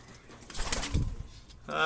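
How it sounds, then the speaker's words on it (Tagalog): A molting racing pigeon gives a brief, close coo, a short low burst over faint background noise at a loft on shipping day in Orland, California. "ito yung pinakamabilis nating ibon last week."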